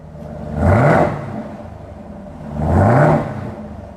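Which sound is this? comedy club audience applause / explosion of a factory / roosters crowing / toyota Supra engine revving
toyota Supra engine revving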